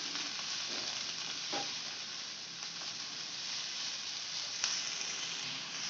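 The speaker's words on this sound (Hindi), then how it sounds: "मैगी ऐड करके अब हम इसको अच्छे से जो है मिक्स कर लेंगे।" Maggi noodles with vegetables are stir-fried in a pan: a soft, steady sizzle runs throughout, with occasional scraping stirs and light clinks, no voices.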